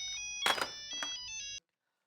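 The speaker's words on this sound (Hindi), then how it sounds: "मेरा कोई फोन आ रहा है" A telephone ringtone rings loud and close for about a second and a half, then cuts off into silence.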